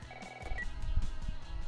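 Telephone ringing in the video game The Last of Us, a brief electronic ring tone followed by low rumbling thumps and room ambience, close and moderately loud.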